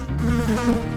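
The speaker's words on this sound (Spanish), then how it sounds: "Los mosquitos son invertebrados, insectos" A mosquito gives off a close, steady, high-pitched whining buzz that holds without a break for about a second.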